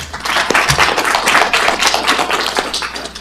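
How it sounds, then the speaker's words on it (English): Board meeting audience applauds, a dense burst of clapping hands filling the room, loud and steady throughout, with no talking over it. "I want to give them a big round of applause"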